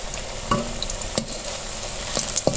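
Potato and onion pakoras with coriander fry in hot oil, giving a steady close sizzle broken by a few sharp pops and spatters.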